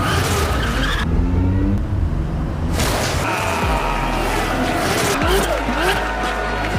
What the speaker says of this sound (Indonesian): mempermalukan Mario dengan cara membanting setir seperti ini